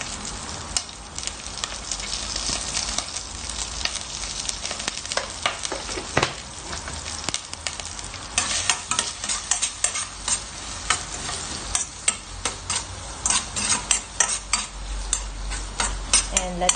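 Onion, garlic and chili frying with salt in a pan, a steady loud sizzle with frequent scraping stirs and clinks of a utensil against the metal, close by and continuous, no voices.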